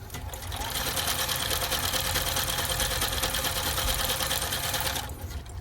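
A Juki F-600 sewing machine, just repaired after a broken gear and a needle bar set too high, stitching at a fast, even whir. The run is loud, continuous and close, lasting about five seconds before it stops.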